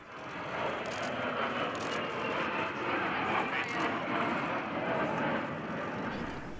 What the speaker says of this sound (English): Another Serbian product, the J-22 Orao fighter bomber.